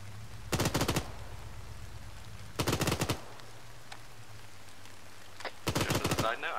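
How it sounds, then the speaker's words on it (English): An MG42 machine gun in Arma 3 fires three short, rapid bursts, each a tight rattle of about half a second, separated by quieter gaps with a low background hum. "I do not feel bad firing this MG42"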